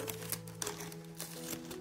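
Pinking scissors cut through gift wrapping paper in a quick series of soft, crisp snips, about five short clicks at an uneven rhythm over a faint steady hum, quiet and close.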